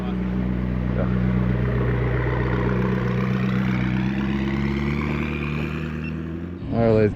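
A 2017 Audi R8 V10 Plus engine idling nearby: a steady deep, smooth hum that holds for several seconds, then a short rising rev near the end, with a voice over it.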